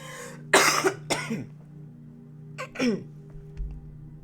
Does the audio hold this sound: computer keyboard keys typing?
no